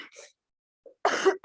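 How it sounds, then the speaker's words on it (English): A single throat-clearing cough during a planning committee meeting, close and moderately loud, with a brief second burst right after and faint speech before it. "now I'm afraid my old cough is coming back to me"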